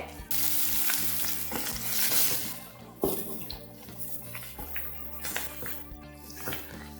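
Chopped onion, curry leaves and green chillies frying in a pan for kanda poha, a close steady sizzle with stirring scrapes and occasional clinks.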